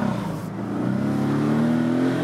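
A 2018 Porsche 718 Boxster engine revs up hard and close in first gear at full throttle, its pitch climbing steadily as it accelerates, loud and continuous throughout.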